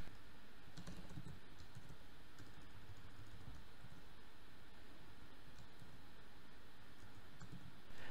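Typing on a computer keyboard while coding, soft quick clusters of key clicks scattered across several seconds, faint and close over a steady background hiss.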